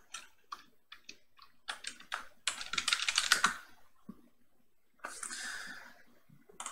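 Keys clack on a computer keyboard as a password is typed in bursts of quick, close taps, with a denser flurry in the middle and another short run near the end, no talking.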